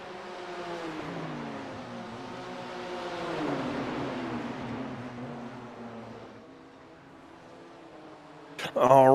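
BMW M4 GT3 and GT4 race cars engines drone and shift through gears at Sebring in a racing game, several cars' tones rising and falling under a commentator's voice, ending with a sharp burst of revving.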